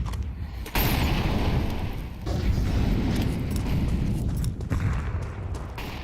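Grenades go off during a Counter-Strike match: loud, dense booming blasts with sharp onsets near the one-second and five-second marks, then a steady rumbling roar behind.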